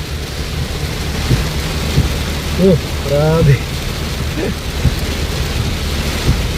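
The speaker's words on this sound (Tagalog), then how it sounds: "grabe, inabutan na tayo ng napakalakas na ulan. Mukhang may bagyo ata oh." A very heavy rainstorm roars steadily with rumbles of thunder, a dense downpour close around, while a person briefly exclaims over it.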